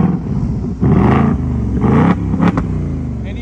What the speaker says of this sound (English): Not only does it have remote start, but it also has remote rev.